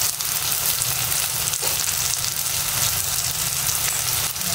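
Chicken pieces frying in hot oil in a pan, a dense, continuous sizzle heard close up with no other sounds.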